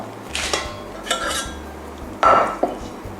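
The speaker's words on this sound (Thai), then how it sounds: "เทพริกและก็กระเทียมนะคะ ลงในชามผสม ตามด้วยเนื้อกุ้งแล้วก็หมูสับ" Chili, garlic, shrimp and minced pork tipped into a mixing bowl, heard as several soft scraping and clinking bursts of utensil against bowl, close and fairly loud, with no talk.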